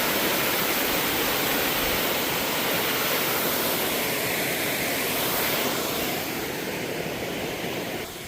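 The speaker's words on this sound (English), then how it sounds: "Look at that waterfall there." A waterfall at Cranberry Lake roars as a steady, loud broadband rush of falling water, unbroken for the full length and easing slightly near the end.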